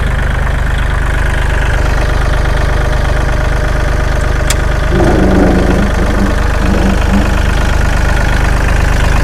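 Kubota L3608 tractor, a used unit fitted with a front dozer blade, idles steadily with its PTO shaft spinning, a constant loud engine drone that carries through the whole stretch, with a rougher mechanical rattle rising briefly near the middle.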